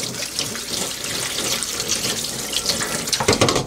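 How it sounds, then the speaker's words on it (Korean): Frozen cranberries and kujippong fruit rinsed under a running kitchen tap, a steady close stream of water splashing over fruit in a sink, ending with a few louder splashes and no talking. "이렇게 헹궈줄게요."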